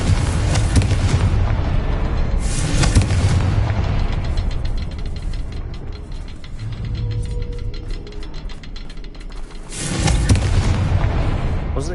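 A Confringo fire spell bursts in Hogwarts Legacy with loud booming blasts, one near the start, another around three seconds in and a final heavy blast near the end, over a continuous rumbling game soundscape.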